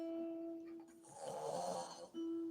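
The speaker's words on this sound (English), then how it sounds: "What key is that snoring?" A single loud snore, a long rasping breath that swells and fades, set between steady tonal hum before and after.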